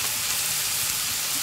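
Chopped capsicum sizzles in a hot pan for poha, a dense, even frying hiss that stays steady and close for the whole short stretch.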